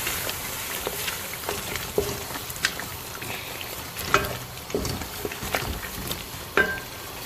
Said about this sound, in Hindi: अब तमाम मसाले डाल के अब हम अच्छी तरह गोश्त की भुनाई कर लेंगे।